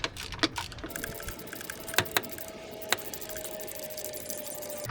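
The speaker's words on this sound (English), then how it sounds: "you just get the ratchet on it, it's a lot quicker" A ratchet and socket back a bolt off a Toyota engine during maintenance: sharp, close metallic clicks with a few louder snaps, over a low background hum.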